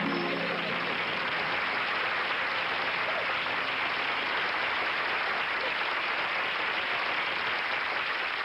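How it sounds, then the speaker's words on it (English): Crowd applause, a dense, steady wash of clapping from many hands that holds at a constant loud level for the whole stretch, with no voices standing out. "I figured she must have been somebody important when I heard that applause."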